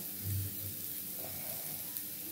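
Soft, steady sizzling of leafy greens and potato frying in a pan, with a faint low thump of stirring early on; quiet and continuous, no voices.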